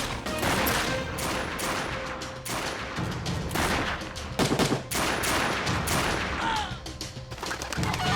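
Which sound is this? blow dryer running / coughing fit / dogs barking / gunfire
gunfire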